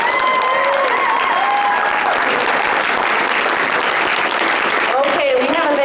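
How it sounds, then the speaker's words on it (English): Audience applause after the first part of a Red Dead Redemption cast panel at a gaming convention, dense and steady for the whole stretch, with a voice talking over it near the end. "Let's have a round of applause for the first part of the panel,"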